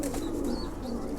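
Pigeons in a loft coo softly and continuously through a short stretch, close and low-pitched, with no talking.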